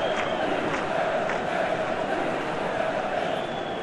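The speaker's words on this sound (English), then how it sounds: "Crowd appreciates good football all round there." A football crowd fills a stadium during a USA versus Egypt World Cup match with a continuous, dense roar of voices and applause, loud and unbroken throughout.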